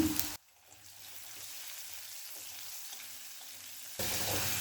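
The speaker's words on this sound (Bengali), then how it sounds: "পনির ভাজা এই তেলের মধ্যে আলুটা দিয়ে ভেজে নেব" Potato pieces fry with a little turmeric in mustard oil left from frying paneer, giving a close, continuous sizzle with soft bubbling and louder bursts at the start and end.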